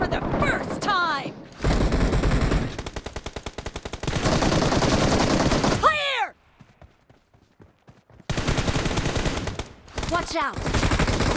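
Rapid bursts of automatic gunfire from a BGMI team deathmatch match, loud and close, broken by a quiet pause midway, with a shouted voice over the shooting.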